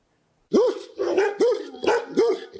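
Stray dogs barking in Mbabane, a run of four or five loud, close barks in a steady rhythm with no talk.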